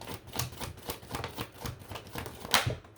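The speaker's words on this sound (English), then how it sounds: "let's pull some romance angel cards and see what we get" Romance angel oracle cards being shuffled and pulled, a run of quick papery flicks and riffles close up, irregular in rhythm with one sharper snap near the end.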